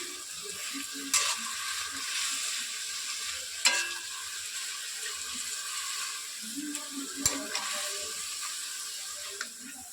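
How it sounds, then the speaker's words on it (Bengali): Puti fish and jute greens are stirred in a pan with a little water, producing a continuous close sizzle with occasional sharp scraping clanks of the spatula. "এবার মাছগুলো দিয়ে দেব ভালোভাবে এবার নেড়ে চেড়ে নেবো একটু"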